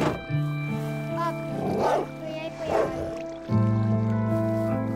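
A dog in a video game gives a few yips and barks while people talk over it, against a droning musical background with sustained tones.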